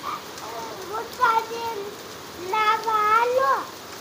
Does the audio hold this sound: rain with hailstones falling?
yes